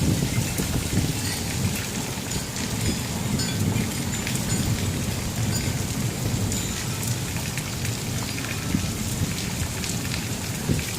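A thunderstorm over Bakersfield, California brings steady, heavy rain with deep thunder rumbling underneath and some wind. It is a continuous, dense wash of sound with no voices.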